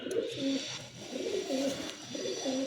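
Imported pigeons cooing in steady, repeated low rolling calls, close and fairly quiet, over light background hiss.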